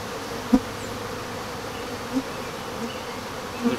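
Honeybees buzzing around an open yellow hive during an inspection: a continuous low drone of many insects, with a few brief louder passes as single bees fly close.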